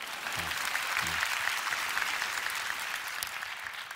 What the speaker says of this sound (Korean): 저희 교회, 여기서 한번 박수치고 갈까요?